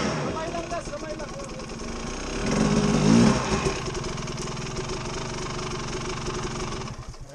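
A motorcycle engine starts and idles, briefly revving up in the middle before settling back to a steady idle, close by, with people talking over it.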